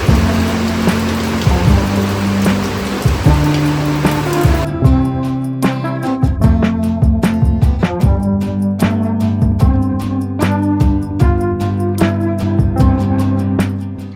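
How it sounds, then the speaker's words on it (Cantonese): Heavy rain pours onto a street in Shek Kip Mei, a dense steady hiss for the first few seconds before music with piano-like notes takes over and mostly covers it. "好大雨喎"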